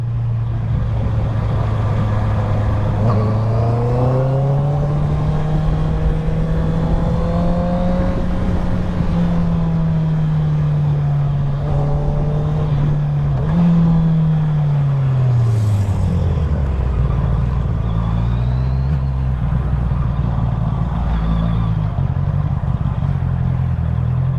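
Honda CBR650 sport motorcycle engine ridden through heavy traffic, a steady loud drone rising and falling in pitch as the rider shifts and revs, with other vehicle noise around and no talk.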